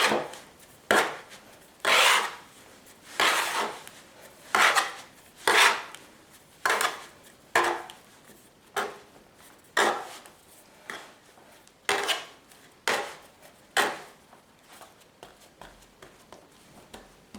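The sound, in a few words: bench knife folding whole grain bread dough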